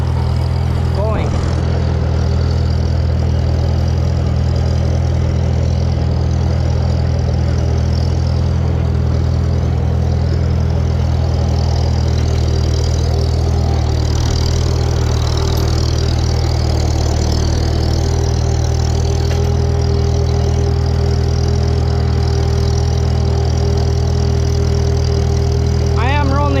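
Farmall M tractor engine chugs steadily in second gear while cutting hay along a steep ditch, a loud, constant low rumble that runs unbroken throughout.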